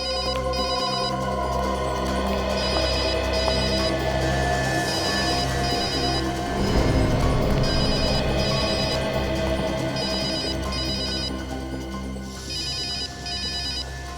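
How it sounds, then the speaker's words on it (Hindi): A telephone ringtone plays in a jewellery shop during a robbery, repeating bursts of bright electronic tones in a steady pattern over a low hum, loud and sustained with no talking. "फोन कहाँ बज रहा है?"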